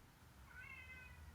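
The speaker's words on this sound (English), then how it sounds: "Is that a cat?" A neighbor's cat gives one drawn-out meow, faint and somewhat distant against a low background hum.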